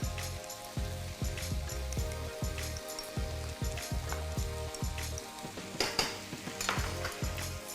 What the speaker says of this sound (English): So let's get your black bean paste in.